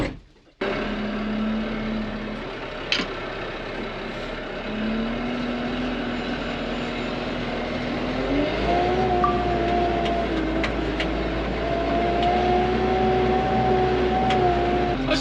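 A tractor engine idles in a low drone, then rises in pitch and grows louder as the clutch is let out and the machine pulls away, holding a steady higher tone afterward.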